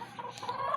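Chickens cluck softly nearby, a few brief, quiet clucks scattered over less than a second.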